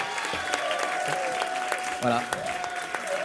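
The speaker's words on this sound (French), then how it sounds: "je pense que vous pouvez applaudir" Concert crowd claps for a finished mural at a show at L'Entrepôt, scattered applause with a few sharp nearby claps, while a voice speaks briefly over it.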